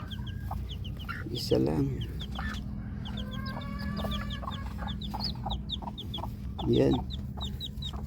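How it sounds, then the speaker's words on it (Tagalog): A mother hen clucks in short repeated calls while her newly hatched chicks peep high and thin throughout; someone talks briefly over them, close by. "At ito lang mga idol yung naging sisiw niya."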